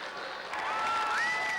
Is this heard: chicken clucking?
no